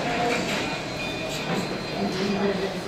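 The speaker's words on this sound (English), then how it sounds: "You start hearing the trains." Recorded passenger trains from New Mexico railroad history play back during a lecture, a steady rolling rumble with faint tonal hum and mechanical rattle, continuous and moderately loud throughout.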